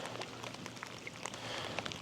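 Rain pattering on a kayak and the surface of Deer Creek Lake in Ohio, a steady close hiss of drops with scattered sharper taps, heard alone with no talk.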